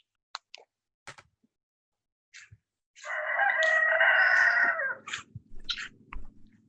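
Large white rooster with a big comb crowing once, a loud sustained cock-a-doodle-doo lasting about two seconds, with scattered clucks and small farmyard noises around it.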